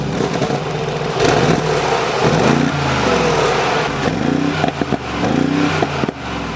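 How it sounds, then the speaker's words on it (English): A 2020 Mercedes-Benz G63 AMG with side-exit dual exhaust revs loudly and close, several rising and falling throttle blips over a steady deep rumble. "one of my other favorite parts on the G-Wagon is the side exit exhaust. This has dual exhaust on both sides, and it sounds really good"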